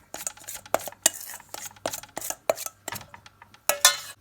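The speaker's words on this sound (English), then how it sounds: "And just give it a bit of a mix up." Dry drop scone ingredients, flour with a teaspoon of baking powder, being mixed in a bowl for cooking over a campfire, with a spoon giving a run of irregular, close clinks and scrapes against the bowl.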